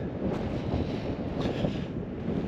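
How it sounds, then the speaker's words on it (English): Wind buffets the microphone on a misty, low-visibility hillside, giving a steady low rumble with gusty swells and no voices. "And a very nuisance wind."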